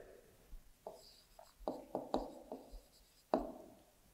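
Pen or pencil writing out the given values of a maths problem, a close, quiet run of short scratching strokes and taps, irregular in rhythm, with a slightly firmer stroke near the end.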